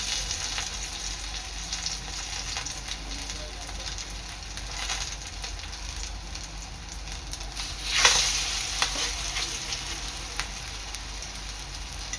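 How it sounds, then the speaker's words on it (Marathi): Soybean kebabs shallow fry in hot oil, a steady close sizzle with a brief louder crackle as a piece is added, no voices. "आता इथे आपलं तेल चांगलं गरम झालेलं आहे। आता यामध्ये आपल्याला एक एक कबाब सोडायचा आहे।"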